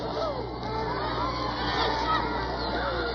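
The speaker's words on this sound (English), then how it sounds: "They're also receiving the plaudits of the crowd." A roadside crowd of men, women and children cheers a parading platoon of the returning 1st Battalion, Calgary Highlanders, a continuous dense babble of shouts and voices, fairly close and steady throughout.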